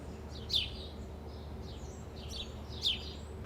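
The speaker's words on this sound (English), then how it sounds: "I can hear the birds chirping." Two short bird chirps in a beer garden on a summer day, a second apart and fairly faint, rise above a steady low outdoor murmur.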